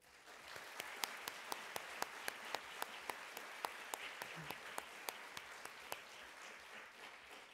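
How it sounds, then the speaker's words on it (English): A seated audience at a National Book Awards finalist reading gives the authors a sustained round of applause, many hands clapping steadily with a few sharp individual claps standing out, heard from a moderate distance. "please join me in giving these incredible authors a huge round of applause"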